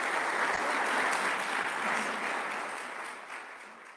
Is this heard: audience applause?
yes